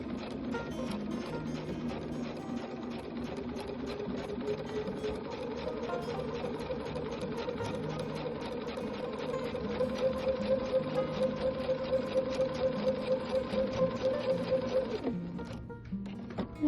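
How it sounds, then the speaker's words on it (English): Sewing machine stitching a straight line through quilting fabric, a fast even mechanical whir with rapid needle ticks that quickens toward the end before stopping abruptly, close and alone. "I'm going to go ahead and just start sewing along this line"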